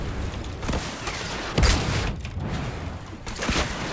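Rockets exploding in Fortnite Battle Royale, a rapid string of loud, sharp blasts about a second apart, each booming burst overlapping the last with no talking.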